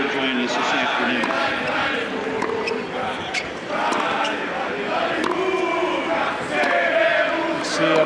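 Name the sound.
fans cheering at tennis match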